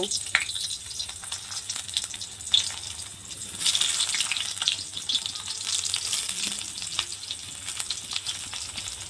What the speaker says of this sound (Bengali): আমি গ্যাসে একটা কড়াই বসিয়ে নিয়েছি, তার মধ্যে দিয়ে দিয়েছি তেল। এবার আমি আলুটা ভেজে নেব।